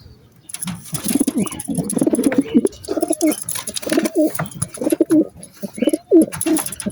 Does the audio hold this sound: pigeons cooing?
yes